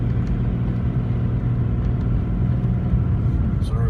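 A 32-year-old Mercedes W126 sedan drives through winter snow, its engine holding a steady low rumble with road and tire noise, loud and continuous from inside the cabin.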